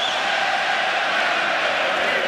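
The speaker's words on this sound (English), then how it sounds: "And the crowd goes up from the Irish fans." Irish fans roar inside the arena at the 2017 Floyd Mayweather vs Conor McGregor boxing match, a dense, continuous crowd cheer that stays loud and even throughout.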